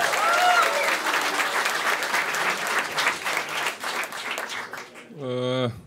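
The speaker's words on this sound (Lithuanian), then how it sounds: "publika, plojimai, pradedam." An audience at a roast battle comedy show applauds loudly and steadily, a dense burst of clapping from a crowd that carries on for several seconds before a voice briefly speaks at the end.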